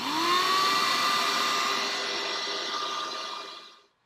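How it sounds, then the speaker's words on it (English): Shop vacuum running for dust collection at a router table gives a steady whining motor roar that slowly fades and winds down to silence over about four seconds, with no voices. "we need to turn the shop vac on to collect dust as well"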